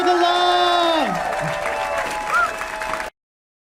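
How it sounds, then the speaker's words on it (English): Comedy-club audience in Oxnard applauding and cheering for a comedian, steady dense clapping with whoops, mixed with tonal gliding sounds, that cuts off abruptly near the end. "Keep clapping. Let them hear the love."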